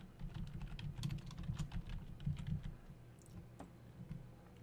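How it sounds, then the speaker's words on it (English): Quick, light keystrokes on a computer keyboard while typing a heading in Microsoft Word, a close burst of clicks that thins out into a few scattered taps, with no voice. "And I will type Works Cited."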